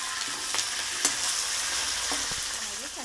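Dried red chillies and curry leaves sizzle and crackle in hot oil in a pan, with a steady frying hiss broken by a few spoon scrapes and stirring clatters, close and moderately quiet.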